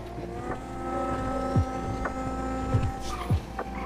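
A car is driven fast, its engine drone steady and droning with faint whooshes and bumps, no talk over it.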